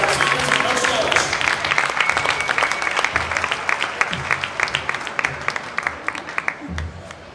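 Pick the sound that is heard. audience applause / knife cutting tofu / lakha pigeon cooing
audience applause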